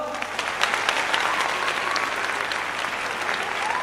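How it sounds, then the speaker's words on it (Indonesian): Audience applause at a company anniversary speech event, a dense, steady burst of many hands clapping together at close range, sustained evenly for a few seconds without a break. "aplaus buat beliau"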